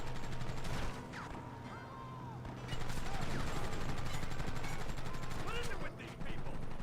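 Gunfire during an on-rails shooting section of the Western game Red Dead Redemption, rapid repeated shots at moderate level over a steady engine-like hum and game music.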